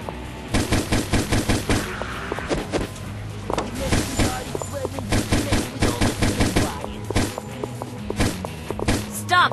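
Rapid bursts of gunfire in the video game Insecticide, loud repeated shots in quick rhythmic volleys across the whole stretch, mixed with game effects and a low music bed.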